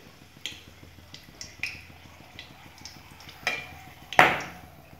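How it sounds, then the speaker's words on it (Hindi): Chillies hitting hot mustard oil in a pan give off scattered light pops and crackles, then one sharp, loud sizzling burst near the end, with no talk over it. "तेल गर्म हो गया है तो यहाँ हम मिर्च है वो पहले डाल देंगे।"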